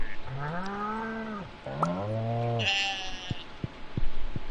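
Sheep in the farming game Stardew Valley bleat in two long wavering calls, followed by a brief higher game chime and a few soft clicks, with no voices.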